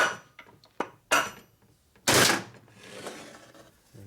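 A hammer, driven by its handle wedged against a part, strikes components of a 1965 Harley-Davidson panhead 74ci FLH motor during a rebuild, giving a few sharp metallic knocks spaced irregularly, close and fairly loud.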